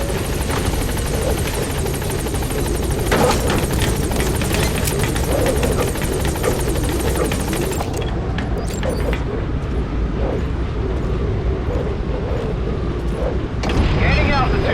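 Helicopter in Metal Gear Solid 5: The Phantom Pain, a loud steady rotor and engine drone throughout, with voices talking over it.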